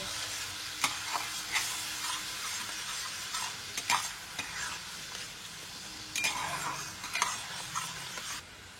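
A spice and yogurt paste cooks down in hot oil, giving a continuous crackling sizzle with irregular spatula scrapes and stirs throughout, fairly quiet and close, without speech.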